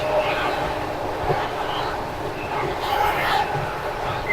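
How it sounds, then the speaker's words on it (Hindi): The 12286 Duronto Express runs at about 120 to 130 km/h, giving a steady, loud, continuous rumble of wheels and carriage heard from on board, with a voice speaking over it. "तो लगभग अपनी ट्रेन 130 किलोमीटर पर आवर की स्पीड तक जाएगी"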